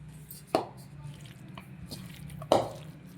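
Cabbage 65 batter with chili powder and cornflour is mixed by hand, giving two distinct wet squelching slaps about two seconds apart over a quiet background.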